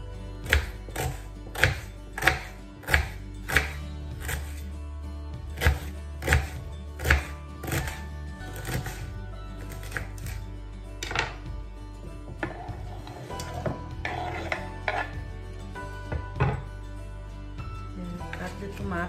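Onion is chopped on a board with a knife, giving a run of sharp, evenly spaced thuds at first. These give way to quieter, irregular cutting and some faint background noise.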